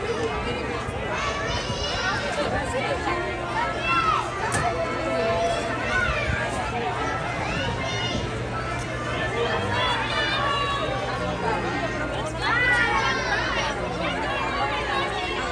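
A crowd at Magic Kingdom, Walt Disney World, fills the air with continuous overlapping chatter and babble. Many voices are close and distant, with shuffling movement and occasional louder exclamations throughout.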